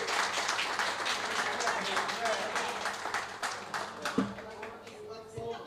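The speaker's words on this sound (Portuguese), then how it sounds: "merece uma salva de palmas" An audience at a pigeon-racing awards lunch claps, a moderate crowd applause mixed with chatter and clatter of the room, easing off toward the end.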